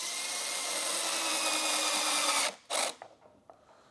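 A cordless drill with its clutch set to 4 drives longer screws into plastic on a Stihl 4-Mix engine cover, a steady loud whir that cuts off abruptly, followed by a short second burst and a few faint clicks.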